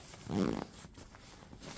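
A compression zipper on a carry-on bag is worked during packing, giving a short, quiet rasping zip followed by fainter scratchy tugging.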